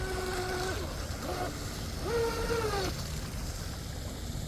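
A J&R Marine H15 mini hydroplane's motor runs on water, its whining tone rising and falling in pitch as it swings through a turn, heard steadily from a distance.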